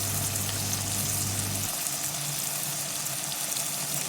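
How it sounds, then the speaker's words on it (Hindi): Spices such as turmeric, garam masala, degi mirch and coriander powder sizzle in hot oil for a tadka, making a loud, steady hiss. A low hum drops away early, and no one speaks. "आइए अब तड़का लगाते हैं मसालों का"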